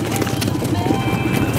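Hooves of mares and geldings clip-clop at a slow pace in a show ring at a horse show, a steady clopping rhythm under loud crowd and arena noise, with a horse neighing faintly.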